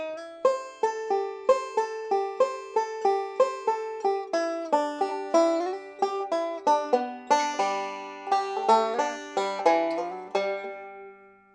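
Bluegrass banjo backup, picked rolls moving from two measures of C back to two measures of G, bright steady plucked notes up close with no talking.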